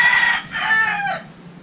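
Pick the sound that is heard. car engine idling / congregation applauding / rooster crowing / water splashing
rooster crowing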